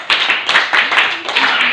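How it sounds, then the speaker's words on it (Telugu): An audience in a temple meditation gathering claps together, a dense burst of many hands that swells in several waves across the whole stretch, close and fairly loud with no talk over it. "క్లాప్స్ కొడదాం."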